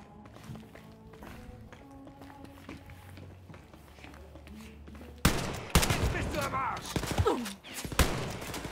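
Rapid video game gunfire erupts midway, dense fusillade bursts and sharp shots following quieter in-game ambience and footsteps, with a person talking at times.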